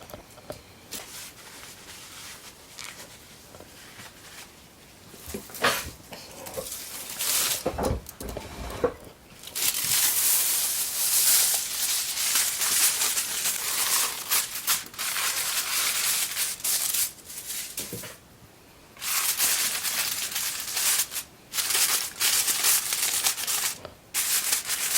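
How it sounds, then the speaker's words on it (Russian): Aluminium foil crinkled and pressed over pollock fish seasoned on a bed of onions, ready for the oven; close, steady rustling and crackling comes in bursts, with short pauses in between. "Так, фольгой укрыли."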